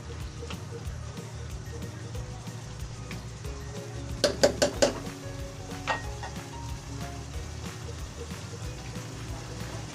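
Gising-gising made with winged beans sizzles steadily in a pan throughout. A few sharp clinks of a utensil come near the middle.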